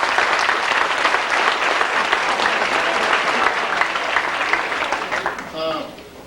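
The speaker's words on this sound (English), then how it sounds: "But I'd like to give them a round of applause." Applause fills the room for a football team at a 1987 Haleyville football banquet: a dense, steady wash of clapping from a large crowd that tapers near the end, with a voice faintly audible underneath.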